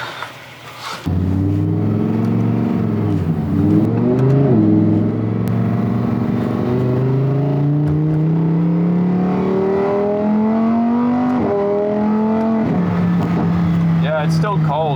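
A cold car engine starts and revs, rising and falling in pitch without climbing very high, close and loud, with a person speaking over part of it.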